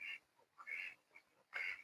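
Laying ducks at a duck farm quacking, three distinct nasal quacks spaced about a second apart, faint and somewhat distant, no talk.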